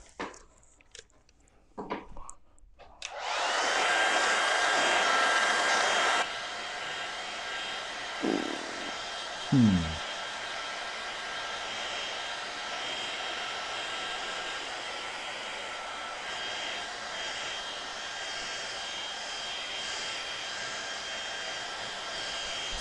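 Hair dryer blowing steadily at close range to dry a watercolour painting of London streets, a loud broadband whoosh that cuts to a lower, quieter hum partway through, with a couple of brief knocks.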